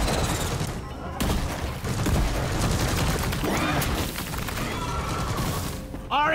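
A deployed sentry gun in the video game Deep Rock Galactic fires rapid continuous bursts, dense rattling gunfire with impacts and mechanical clatter running throughout.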